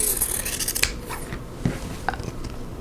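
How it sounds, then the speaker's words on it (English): Scissors snip through quilt fabric blocks along a drawn line, a quick run of crisp close cuts followed by a few separate sharper snips, with no talking. "cut on the drawn line, and then I'm going to trim them"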